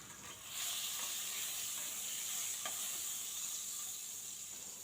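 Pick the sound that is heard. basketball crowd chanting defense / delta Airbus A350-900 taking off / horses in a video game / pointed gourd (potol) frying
pointed gourd (potol) frying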